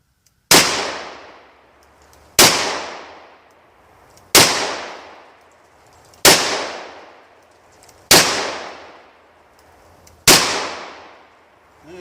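.357 Magnum Keith bullets fired into ballistic gelatin: six loud sharp gunshots spaced evenly about two seconds apart, each ringing out with a decaying echo.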